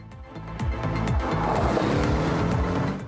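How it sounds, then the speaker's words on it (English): Porsche sports car driven on a test track, its engine revving up in quick repeated sweeps as it accelerates close by, with a hint of tire noise. "Now it's time to try out the Porsche on a test track."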